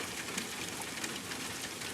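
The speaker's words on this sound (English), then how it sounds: "rain chains hang from the eaves, copper links that guide water down in gleaming streams" Steady, dense rain falls on the surfaces of a mountain pavilion, a soft continuous hiss with no distinct drops standing out.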